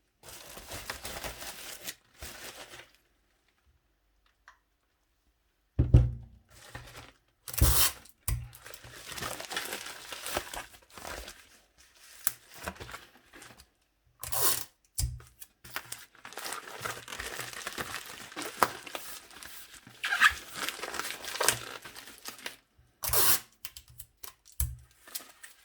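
An envelope crinkles and rustles as it is handled while a Nintendo Game Boy Pocket is packed for shipping, with close, intermittent bursts of crumpling separated by quiet pauses.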